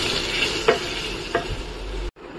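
Potatoes frying in a pan with a steady sizzle, two distinct scraping stirs of the spatula, and a brief cut to near silence at the end.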